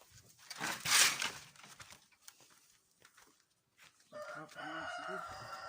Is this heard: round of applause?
no